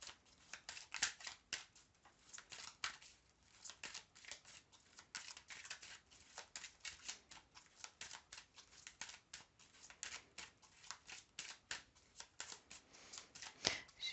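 A deck of tarot cards is shuffled by hand in quiet, close riffles and flutters that repeat in quick, uneven bursts, with a sharp snap near the end.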